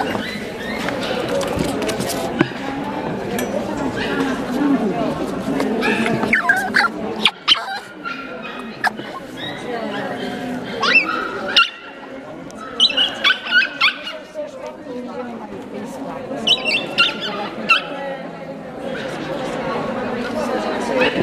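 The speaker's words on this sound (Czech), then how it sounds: "Tam řve Janě pes." Dogs at a breed gathering for Prague Ratter owners, with yelping, whining and short barks breaking out repeatedly amid continuous chatter from a crowd of people talking nearby.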